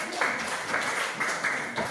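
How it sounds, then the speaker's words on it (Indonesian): Students in an Indonesian classroom lesson clap together on the teacher's cue, a short dense burst of many hands with a few rhythmic accents. "tepuk tangan dong"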